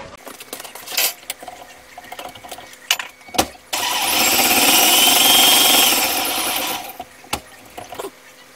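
An electric mixer whips sugar and butter for cookie batter. It runs as a loud, steady whir for about three seconds, with clunks and bumps before and after.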